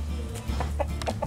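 Several chickens cluck in short, separate bursts outdoors in a yard, close and moderately loud over a steady low background hum.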